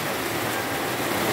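Heavy rain pours down during a storm in the Philippines, a dense, steady roaring hiss that fills the whole stretch with no voices.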